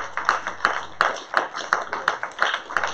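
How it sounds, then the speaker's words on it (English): A round of applause at the close of a community listening session on traffic safety, with scattered hand claps from a modest crowd in a room, steady and fairly close for about three seconds. "Let's give everybody a great round."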